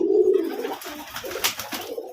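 Pigeons coo at a pigeon farm keeping Putul Golla pigeons, a low throaty call rising near and clear at the start, then softer coos and shuffling follow with no talk.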